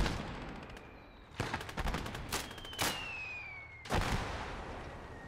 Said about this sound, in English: Mortars are doing their job.